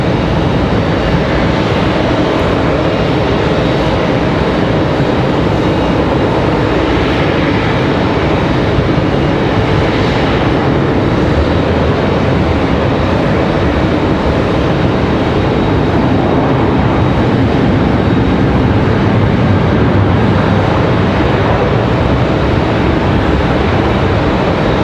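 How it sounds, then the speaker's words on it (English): An American Airlines Boeing 737-800 lands at Raleigh-Durham International, a loud, continuous broadband jet roar and rumble that holds steady throughout, with no voices. "Nice touchdown for the 737-800."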